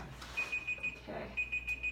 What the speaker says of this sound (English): that is the timer